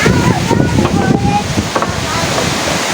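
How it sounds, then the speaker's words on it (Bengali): A cyclone storm brings gusting wind and heavy rain, heard as a loud, rough rush of wind buffeting the microphone with a dense wash of rain, and a voice speaks over it. "অনেক তুফান অনেক বৃষ্টি হইতেছে"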